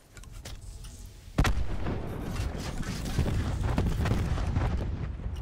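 Gunfire from two enemies in a shooter video game, a sudden loud burst of shots after a quiet start, followed by sustained rumbling fire and impacts that continue steadily to the end.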